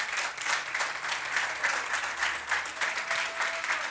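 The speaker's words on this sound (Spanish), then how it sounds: "Denle un aplauso fuerte al Señor." A church congregation claps loudly and steadily throughout, a dense continuous applause with no voices rising above it.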